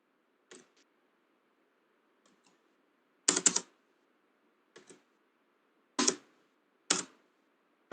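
Short bursts of keystrokes on a computer keyboard, clustered and spaced apart by near silence, fairly close and crisp.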